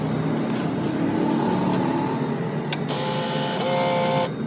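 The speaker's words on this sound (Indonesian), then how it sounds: "itu adalah suara servo yang sehat gitu menurut gue" A small Yamaha two-stroke motorcycle power valve servo (YPVS) whirs and buzzes in short cycling bursts over a steady engine-like hum, close by.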